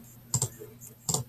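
A few quick keystrokes tap on a Chromebook keyboard, two short clusters of crisp, close clicks over quiet room noise.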